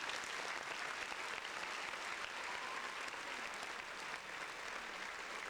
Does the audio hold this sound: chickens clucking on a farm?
no